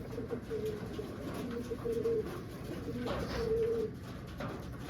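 Pigeons coo softly in repeated low, throaty phrases against a quiet background, several calls overlapping across the few seconds.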